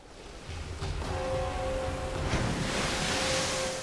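Ocean surf at a beach in the Tomb Raider Definitive Edition video game, a broad continuous wash of waves and wind-like hiss at steady loudness, with a faint thin tone running through the middle.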